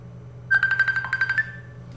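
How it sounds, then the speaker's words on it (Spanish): A mobile phone rings loud and close in a quiet church talk setting, its short burst of rapidly repeated electronic chirps on one steady tone lasting about a second before cutting off. "Voy a silenciar más un poco mi teléfono."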